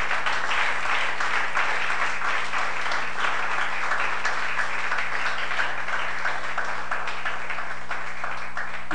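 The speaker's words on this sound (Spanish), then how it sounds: "Dale un fuerte aplauso al Señor" A church congregation claps in loud, sustained applause during a Spanish-language service, a dense even wash of many hands heard close and without pause.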